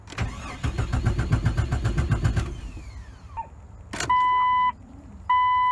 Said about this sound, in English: Fuel pump is priming.